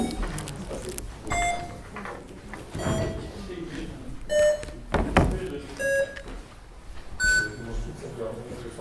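Short electronic beeps from voting console buttons at a Ukrainian town council session, scattered several times among room thumps and ongoing talk.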